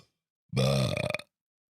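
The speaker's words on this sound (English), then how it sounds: "Can you burp into the mic real loud and nasty like?" A single loud, close burp made straight into a microphone, long and drawn out with a raspy croak, standing alone in otherwise quiet surroundings.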